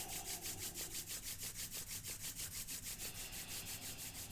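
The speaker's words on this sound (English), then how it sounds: "So let's rub the hands together." Palms rubbing briskly together during a yoga session, a close, steady swishing friction in a regular back-and-forth rhythm of about four strokes per second, heard alone without talk.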